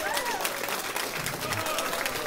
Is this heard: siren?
no